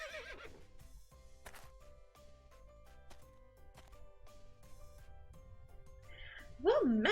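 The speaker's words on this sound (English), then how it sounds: "I think I actually hear a horse coming" A horse whinnies in a video game, its cry rising near the end after a long stretch of quiet game music and faint hoofbeats.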